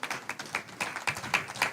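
A church congregation claps in rhythm, a regular series of sharp, evenly spaced hand claps heard fairly softly, with no other sound prominent.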